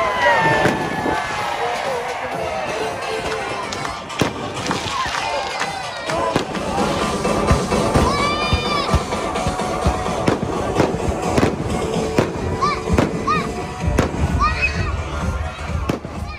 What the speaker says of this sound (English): there's supposed to be a fireworks show